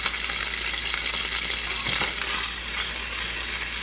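Kalamata olives sautéing in a pan for a sauce give a steady, close sizzle with soft crackles and a brief louder burst midway, no talking.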